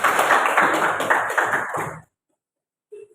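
Applause from a classroom of students, a dense burst of many hands clapping for about two seconds that stops abruptly, followed by silence and a faint brief sound at the end.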